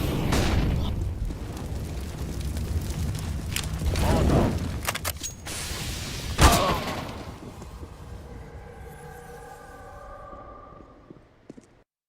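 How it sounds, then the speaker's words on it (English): A flashbang grenade goes off in Counter-Strike wingman play, with a sharp burst near the middle after a stretch of rumbling game noise, then a fading high ringing tone as the sound thins out. "Throwing flashbang."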